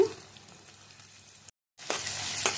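Onions and green chillies fry in a pan for a chicken gongura curry, a steady soft sizzle that drops out briefly, then returns louder and brighter with a few stirring scrapes.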